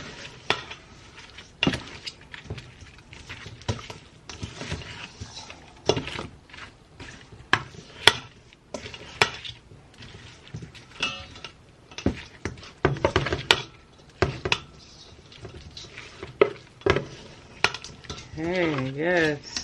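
Tongs toss honey-soy glazed chicken wings around a pan, giving sticky stirring squelches and sharp metallic clinks against the pan in uneven bursts, close up with a faint sizzle beneath.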